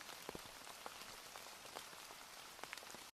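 Raindrops falling steadily on a surface in an even, continuous patter with a few louder close drops, no voices, played in a third-grade lesson about the benefits of rain.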